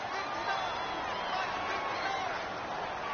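Crowd noise from an American football video game: a steady, dense roar of a stadium crowd, moderately loud and continuous, with commentary voices speaking over it.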